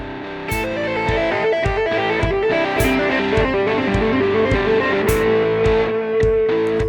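A fast hammer-on riff on overdriven electric guitar repeats in tight five-note bursts, bright and driving, played alone at close range.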